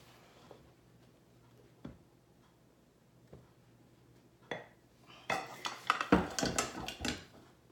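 A metal baking pan with side clips being handled, starting with a few faint isolated ticks and then turning into a cluster of louder metallic clinks and clatters near the end.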